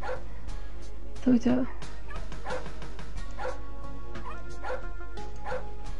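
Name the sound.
dog barking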